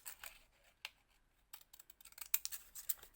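Scissors snipping through craft material while making flower and ladybug fridge magnets, a few quiet, crisp close-up cuts scattered irregularly over near silence.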